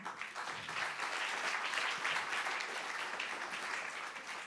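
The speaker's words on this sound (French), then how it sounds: "Fabienne Dulac, qui est CEO d'Orange France, que je vous demande d'applaudir." Steady applause from a round-table conference audience welcoming a speaker, a dense wash of many hands clapping continuously at moderate volume with no talking.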